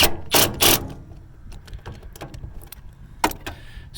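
Snap-on socket ratchet tightens bolts on a Hyundai Tucson fuel pump assembly during replacement, giving close, loud clicking bursts at the start and then lighter, scattered ratcheting ticks and metallic taps.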